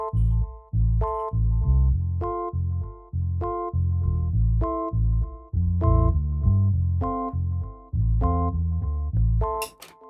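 A synth bassline with stacked chords in an Afrobeats-style beat made in FL Studio plays a steady, looping groove, notes pulsing in short repeated phrases with no voices.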